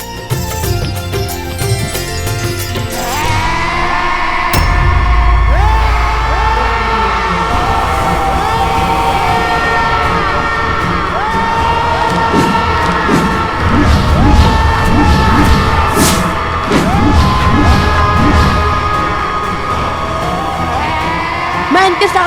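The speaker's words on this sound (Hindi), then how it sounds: "इनकी चीखों के सामने मेरी सुध खो रही है।" Battle screams from the Shrimad Ramayan TV series: loud, sustained yelling and shouting over a dense, dramatic score, continuous throughout with no clear pauses.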